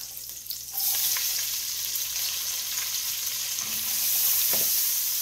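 Chopped onions sizzle steadily in a hot pan over lowered heat, a dense, even hiss filling the clip after a quieter start, with a few faint stirring scrapes near the end and no talk.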